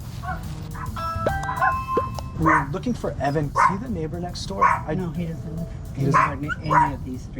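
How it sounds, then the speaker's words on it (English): A dog barks repeatedly behind a house door, muffled yaps and woofs coming in bursts while people talk over them nearby. "Oh, that's a dog."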